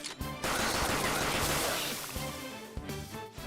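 A burst of gunfire in Persona 5 Royal as a gun is fired at a shadow: a dense, loud clatter of rapid shots with crashing impacts that fades, then a few brief sharp hits.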